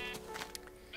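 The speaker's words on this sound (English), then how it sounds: "Hello, sheep." A sheep bleats in a Minecraft-style block-building game world, a couple of short, fairly faint calls over a steady background hum with no talking.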